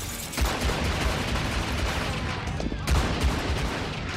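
Dense gunfire from a 1993 action-comedy film, rapid loud volleys and booming shots rattling continuously, with brief speech mixed into the battle noise.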